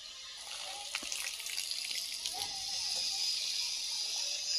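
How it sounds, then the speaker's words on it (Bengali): Water is turned on for watering a vegetable garden with eggplant seedlings, a soft hissing gush that builds and then flows steadily. "আর জল ছেড়ে দিলাম।"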